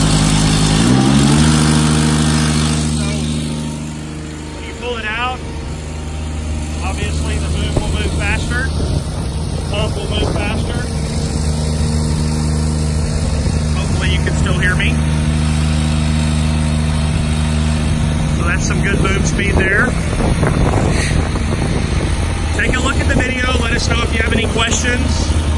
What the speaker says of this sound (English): I'll show you that with this little throttle here while he's operating the boom.